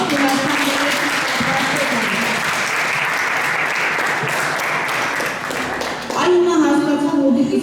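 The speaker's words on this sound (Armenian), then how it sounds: "Նաև մեր ուսուցիչներին ծափահարենք" An audience at a kindergarten farewell event applauds the teachers with a loud, dense wash of clapping that carries on steadily, and a voice begins speaking over it near the end.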